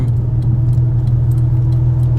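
Porsche Boxster engine idling at a stop at traffic lights, a steady low rumble with a slightly wavering tick-over, heard close and continuous with no talk.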